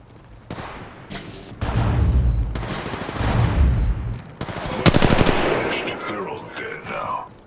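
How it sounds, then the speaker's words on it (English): Gunfire in Apex Legends Mobile: bursts of automatic shots and rapid fire erupt in several loud clusters, mixed with in-game noise. "They're shooting at me."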